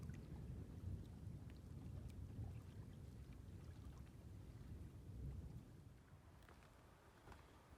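Thunder rumbles in a storm over a lake in Woodland Caribou Provincial Park, a low continuous distant roll under wind and light rain noise, swelling and fading slowly.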